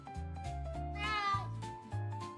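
A cartoon cat in an animated children's moral story meows in a drawn-out, fairly close call that rises and falls, with a second shorter meow near the end and no talk over it.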